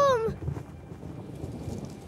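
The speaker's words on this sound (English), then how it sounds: "Uh-oh, the storm!" Cartoon thunderstorm: soft, steady rain patter and a low distant rumble of thunder, heard faintly after a brief high sliding cartoon voice at the start.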